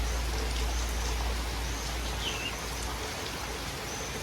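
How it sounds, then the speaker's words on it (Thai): Heavy rain pours steadily in a rural Thai setting around Nakhon Phanom, a dense, constant hiss of falling water that stays loud and even throughout with no voices. "ฝนตกหนักครั้งนี้ก็ตกเหมือนกันตกแรงมากครับ"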